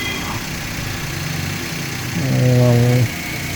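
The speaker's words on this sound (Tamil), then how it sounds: "வண்டி ஸ்டார்ட் ஆகிடுச்சு, வண்டி ஓடிட்டுருக்கு." A car engine running after a jump start, a steady low idling hum that swells louder for about a second near the end before settling back.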